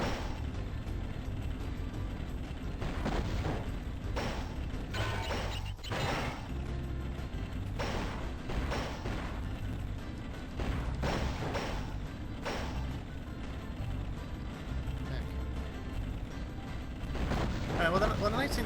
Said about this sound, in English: There's a cannon installed on your car for this run, and you'll have to shoot balloons too.